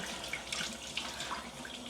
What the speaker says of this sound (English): Nice new stylish water faucet. Decent pressure.